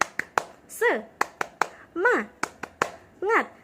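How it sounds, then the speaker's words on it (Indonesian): A classroom spirit clap in a university early-childhood education class: sharp group claps and snaps in a quick rhythmic pattern, alternating with short chanted vocal calls from the group. "Tepuk semangat."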